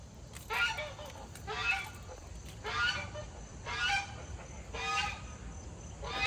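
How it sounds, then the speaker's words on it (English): Domestic geese and chickens at a zoo fowl enclosure honk loudly in four or five repeated calls about a second apart, with clucking and other bird chatter in the background. "there are a ton of different birds in here. All kinds of geese and chickens"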